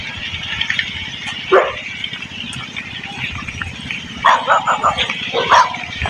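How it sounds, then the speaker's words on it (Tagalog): A dog barks a few times in the distance, short bursts over a steady background hum, with a pause before a quicker run of barks. "Binabati na tayo ng aso doon eh."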